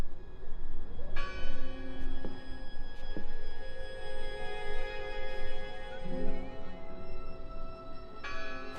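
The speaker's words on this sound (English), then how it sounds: "I heard the bell!" A church bell rings in the video game Draugen, sustained tolling tones entering around a second in and ringing on over a low rumbling ambience, with another strike near the end.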